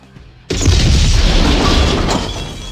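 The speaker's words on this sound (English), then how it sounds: "I was waiting for that ridiculously loud explosion noise." A sudden, very loud explosion in the Command & Conquer video game bursts in after a quiet start, with a booming, crashing roar that sustains for about a second and a half before easing off.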